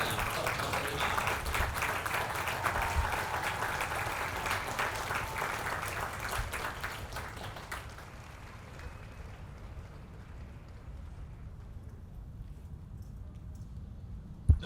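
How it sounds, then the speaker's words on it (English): A crowd applauds the company staff at a military company graduation ceremony, broad steady clapping that carries for several seconds, then thins and fades toward the end. "please join me in a round of applause for the company staff of Company I"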